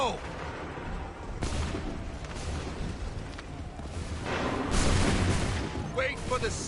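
Musket and artillery volleys from Assassin's Creed III Remastered, with booming bursts around the start, middle and near the end. Shouted battle commands run beneath the firing.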